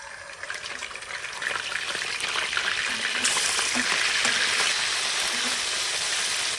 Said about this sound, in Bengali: এই লবণ সহ মাছটা এখন আমি হালকা একটু ভেজে নেব